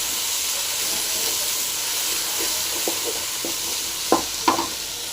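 Taro root frying with tomato in a pan gives a steady broad sizzle, with a few soft stirring knocks and scrapes near the end.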